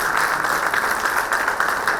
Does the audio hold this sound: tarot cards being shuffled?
no